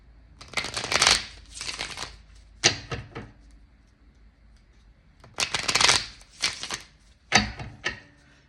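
A deck of tarot cards being shuffled in several brisk riffling bursts separated by short pauses, close up and with no voices.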